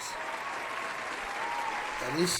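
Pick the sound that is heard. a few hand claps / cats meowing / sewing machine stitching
a few hand claps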